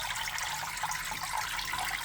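An AQQA aquarium filter runs with water flowing and splashing softly, a faint continuous trickle and bubbling, quiet and steady with no speech.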